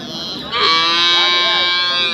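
Cattle at the Anthiyur cattle market letting out a single long, loud, close moo that swells and holds for about a second and a half over market background noise.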